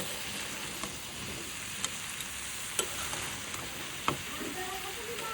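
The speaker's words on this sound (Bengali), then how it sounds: "এবার একটু মিশিয়ে দেবো, ভালোভাবে মিশিয়ে দেবো মশলাগুলোর সাথে" Curry with spices is stirred and fried in a pan, giving a steady close sizzle broken by a few sharp scrapes and clicks of the spoon against the pan.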